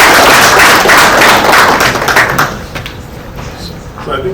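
Audience applause at a ceremony, a dense loud wash of clapping that thins and fades over a few seconds, with a little background voice near the end.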